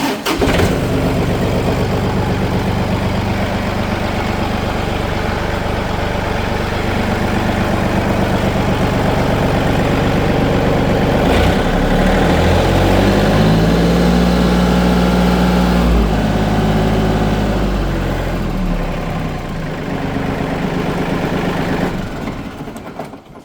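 A 2004 John Deere 4410 four-wheel-drive utility tractor with low hours runs steadily, its diesel engine holding a smooth, loud idle, then rising and settling in pitch midway before easing back.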